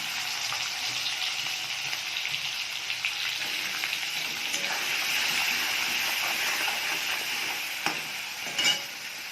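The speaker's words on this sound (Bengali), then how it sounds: "আমি শুটকি মাছটা ভেজে তুলে নিয়েছি।" Dried fish frying in hot oil in a wok, a steady broadband sizzle with occasional scraping stirs and a few sharper pops near the end, no talking.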